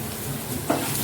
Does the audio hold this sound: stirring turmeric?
yes